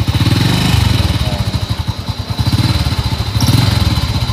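An Astrea Prima motorcycle engine runs at a steady idle while warming up, a loud, close, even low putter of rapid exhaust pulses with no talking.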